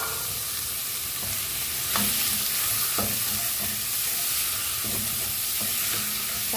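Sliced beef for nilagang baka cooks in a pot, giving a steady close sizzle with occasional stirring knocks and no talking.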